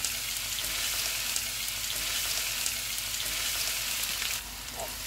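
Onions sizzle steadily in hot oil with whole spices for vegetable biryani, a dense close frying hiss that holds throughout and drops slightly in level near the end.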